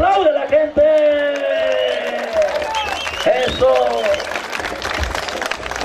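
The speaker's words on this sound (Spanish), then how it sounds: "así aplaude la gente" Crowd at a village festival in San Antonio Chiltepec, 2014, applauding a ranchero rider's finish, a loud rolling patter of clapping with whoops and a cheer as an announcer keeps talking over it.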